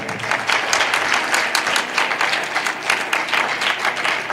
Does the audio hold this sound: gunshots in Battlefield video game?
no